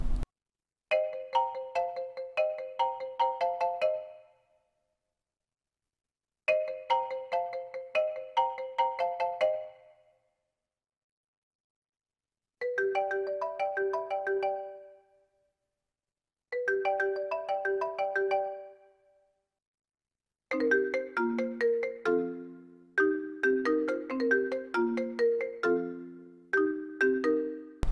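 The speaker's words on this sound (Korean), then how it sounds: "아이폰 벨소리입니다." The iPhone ringtone melody played on marimba, bright mallet notes in repeated phrases separated by short silences, with lower notes added near the end.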